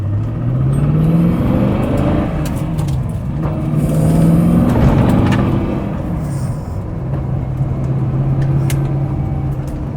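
A TVR Griffith engine idles steadily, a low rumbling drone with slight pitch wavering, holding close and loud throughout with no voices.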